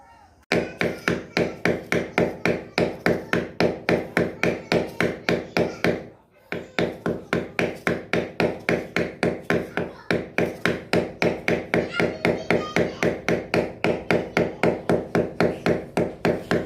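A hand hammer strikes in a fast, steady rhythm of sharp, close, loud blows, copying the pounding action of a hammer drill. There is one brief pause partway through before the blows resume.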